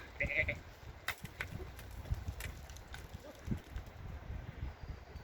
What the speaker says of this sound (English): These are bighorn sheep